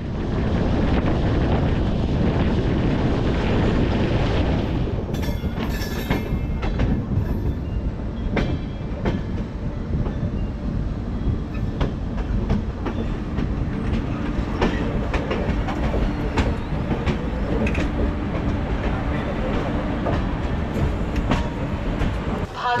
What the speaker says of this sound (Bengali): আমাদের ট্রেন চলে এলো মালদা টাউন।